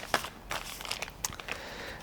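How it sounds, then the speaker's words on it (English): A thin plastic bag holding a camera lens crinkles close by in a series of quick, sharp rustles and crackles, handled alone without talk. "we got the lens here coming in a plastic bag"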